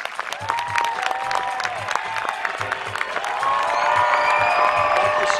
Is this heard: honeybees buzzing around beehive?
no